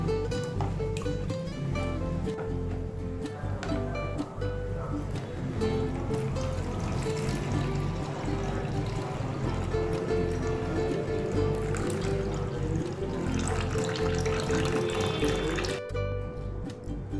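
Tap water runs steadily into a bowl of basmati rice being washed by hand, a continuous splashing rush with swishing and sloshing throughout, fairly loud and close, easing off near the end.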